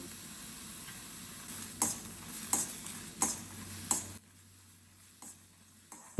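Lentils and spices dry-roast in a pan on low heat, a faint dry rustle with several sharp clicks of the spoon against the pan at a slow, irregular pace, no talk.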